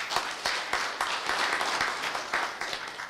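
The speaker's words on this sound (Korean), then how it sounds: "감사히 박수를 부탁드립니다." An audience at a university staff retirement ceremony in Korea gives brief, moderately faint applause, with scattered claps blending into a steady patter.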